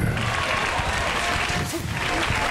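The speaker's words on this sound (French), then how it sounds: "On acclame Jésus." Church congregation applauding during a service, dense continuous clapping filling the room with voices mixed in.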